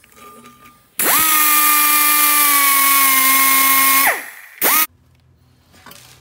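A rotary tool fitted with a sanding disc whines loudly and steadily for about three seconds while cleaning out the stud bore on a B16 intake manifold, spins down, gives one short burst, then stops.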